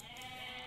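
A goat in the Age of Mythology: The Titans strategy game gives one brief, clear bleat with a faint click at its end.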